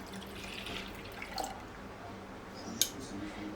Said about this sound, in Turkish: Bir de 400 milimlik süt ekliyorum.